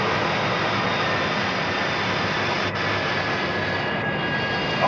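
Jet aircraft engine climbing at climb power just after takeoff from St. John's, Newfoundland, in 1960, a loud, steady, unbroken roar that holds constant throughout.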